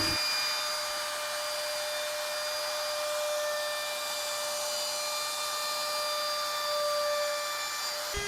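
Corded handheld wood router running continuously while shaping cutting boards, a steady high-pitched motor whine that holds an even level throughout, close and alone.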